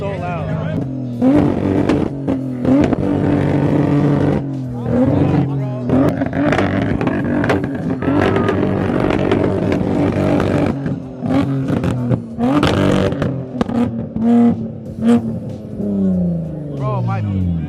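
A loud car engine revs hard at a crowded JDM car meet, its roar rising and falling in repeated bursts over about eighteen seconds, with excited voices and crowd chatter underneath.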